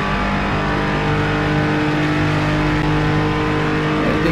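A DI Honda NSX GT3 race car closing on slower LMP2 and GT4 traffic during Daytona qualifying in Project Cars 2, its engine droning loud and constant with rising and falling revs.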